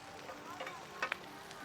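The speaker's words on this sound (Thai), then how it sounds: "หอยฉากระทะร้อน" Mussels fry on a hot pan at a night market stall in Ayutthaya, Thailand, a soft steady sizzle with a couple of brief sharp clinks of a utensil.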